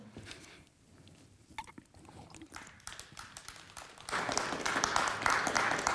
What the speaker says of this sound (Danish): Der er vilde klapsalver til dig, både her i salen